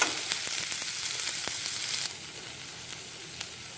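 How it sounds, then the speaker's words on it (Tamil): Chopped onions frying toward golden brown for a fish head and tail curry: a continuous bright sizzle that drops noticeably quieter halfway through, with faint scattered pops and clicks. "இப்போ அதோட நம்ம ஆனியன் கட் பண்ணி வச்சுக்கிற ஆனியன் சேர்த்து இது நல்லா brown colour, golden brown colour வரைக்கும் நம்ம வேக வைக்க போகிறோம்."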